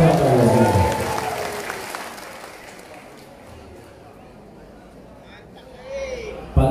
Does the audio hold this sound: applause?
yes